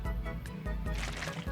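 Watering dragon fruit plants in the Roblox video game gives a brief, quiet liquid splash and gurgle, a few soft dripping bursts with no talking.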